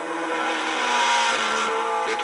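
Historic Simca 1000 rally cars at the start of a race, engines droning and revving together in a loud, steady roar close by.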